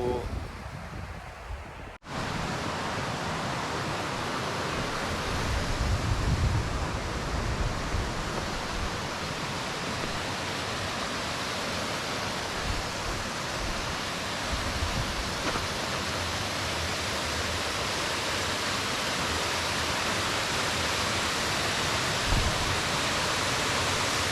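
A multi-tiered natural waterfall in Utah pours in a steady, dense roar of rushing water that stays loud and unbroken throughout, after a brief quieter moment at the very start.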